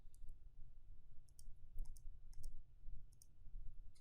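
Light, crisp computer mouse clicks on carousel navigation links, arriving in small pairs and clusters at an irregular pace over a soft low rumble.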